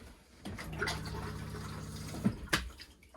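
Flush water from the toilet rushes down into the holding tank of a 2016 Chausson Flash 610 motorhome, a steady close gurgling pour of a couple of seconds ending in a short knock and splash.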